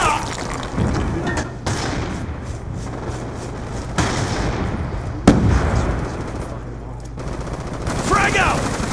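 Guns firing in a Call of Duty: Black Ops 2 multiplayer match, a dense, continuous clatter of gunfire with several heavier thumps and bursts, busy and loud throughout.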